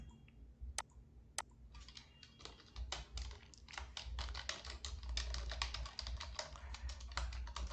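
Rapid typing on a computer keyboard while entering a function in a form, with dense, irregular clicking keystrokes heard close and alone after a couple of isolated taps.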